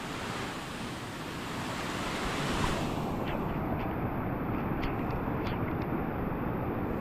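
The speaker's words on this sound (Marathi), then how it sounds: "समोर धबधबा आहे आणि पाऊस पडल्यामुळे पाणी जरा खूप आहे" A waterfall swollen after rain, a steady, loud broadband roar of rushing water that swells slightly and continues unbroken throughout, with faint wind noise and no voices.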